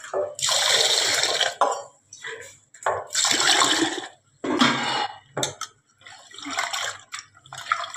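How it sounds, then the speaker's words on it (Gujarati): Rice and lentils are washed by hand in a vessel for khichdi, with repeated loud bursts of swishing, sloshing water and short pauses between them. "ખીચડીને બનાવતા પહેલાં ચોખા અને આપણે દાળને ધોઈ નાખીશું"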